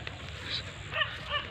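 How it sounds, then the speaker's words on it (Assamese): Dogs in an open field give faint, brief yips and whimpers from some distance, heard as a few short bursts over low background noise. "ইমানকেইটা কুকুৰ"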